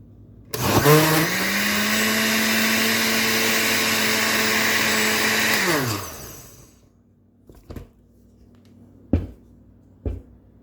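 An electric blender whirs loudly at a steady pitch for about five seconds while blending spices, salt and other ingredients, then winds down, followed by a few clunks of the jar and lid.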